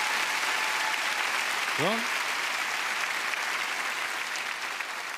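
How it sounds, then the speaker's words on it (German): Studio audience applause for a contestant on a German game show: loud, sustained clapping throughout, with a brief spoken word cutting through the middle. "Applaus bitte für Sophie."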